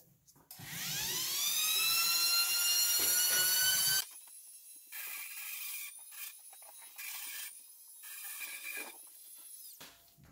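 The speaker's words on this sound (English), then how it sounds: "I'm going to grind down that inside stud a little bit" A rotary tool grinding down a broken plastic molding stud: a loud whine that rises in pitch and holds steady, then shorter bursts of high buzzing as the bit touches the plastic, close and alone.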